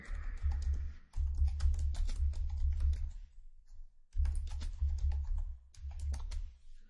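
Rapid clatter of typing on a computer keyboard, close and fairly loud, in two bursts separated by a short pause, over a low hum.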